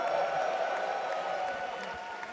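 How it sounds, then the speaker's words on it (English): An arena crowd at The International 2025 Dota 2 grand final cheering and applauding, a broad steady roar that fades slightly, heard at a distance. "now you guys are cheering because I tell you to"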